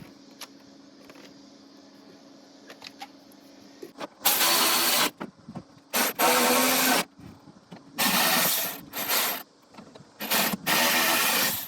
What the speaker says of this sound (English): I'm going to tighten this computer back down